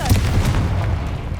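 Confringo explosive spell cast in the Hogwarts Legacy video game, a short booming blast with a low rumbling tail that holds steady and fades slowly.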